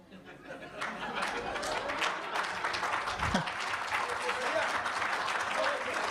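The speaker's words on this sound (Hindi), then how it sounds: "दूसरी जो समझ जाएंगे वो तालियां बजा देना।" Audience at a Hindi comedy poetry gathering bursts into sustained applause, building quickly and holding steady, with some chatter and light laughter mixed into the clapping.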